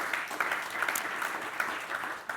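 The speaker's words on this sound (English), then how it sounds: "So let's give them a warm round of applause," A conference audience applauds a panel of speakers, dense clapping from many hands with a few sharper claps standing out, steady and moderately loud from start to finish.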